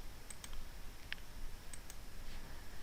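A few faint, sharp mouse clicks spaced apart while boxes are ticked on a search page, quiet and close over a low background hum.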